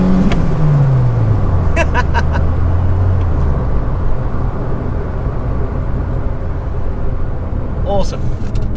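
Ford Fiesta RS Turbo MK3, an old-school boosted hatchback, with a falling engine note that drops away and settles, plus brief chirpy turbo chatter bursts around two seconds and again near the end, heard from inside over steady road noise.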